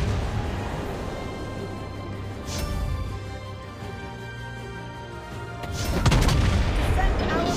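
Ship guns boom in a naval battle in World of Warships Blitz, with heavy low rumbling blasts through the clip and a louder salvo near the end, while voices talk over the gunfire.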